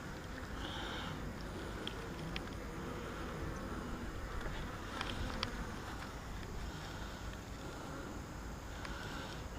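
Honeybees buzzing around an open hive during an August inspection, a dense, continuous hum close by with faint scattered clicks and no voices.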